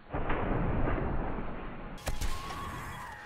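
Rocket launcher in 7 Days to Die, with a burst of rumbling blast noise and then a sharp crack and a second explosive thump, heard amid game background noise.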